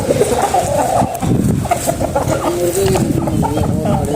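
Aseel chickens cluck and murmur close by, a busy, overlapping jumble of fowl sounds with some background voices mixed in.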